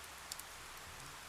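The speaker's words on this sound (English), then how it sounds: "The rain won't let up." Rain falls in the video game 428 Shibuya Scramble as a very faint, steady hiss, with a couple of soft drop ticks near the start.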